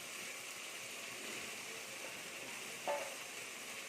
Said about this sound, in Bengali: এবার এটা একটু কষানো হোক থাকুক মশলাটা কষানো হয়ে এসেছে প্রায়